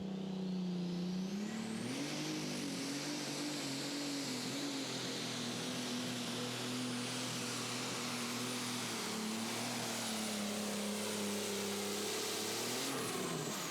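Loud, sustained roar of a light weight super stock pulling tractor engine straining against a heavy sled at a Pro Pulling tractor pull in Goshen, Indiana, holding a steady high pitch with a brief rise near the start.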